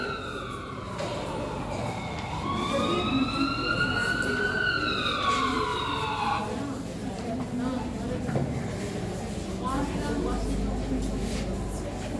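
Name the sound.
ambulance siren sound effect in a skit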